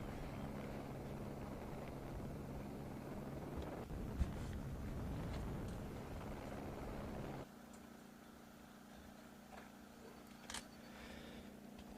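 A helicopter hovering over a rally stage at Rally Liepāja 2021, giving off a steady, loud rotor and engine drone with wind buffeting, which drops to a lower, quieter hum partway through.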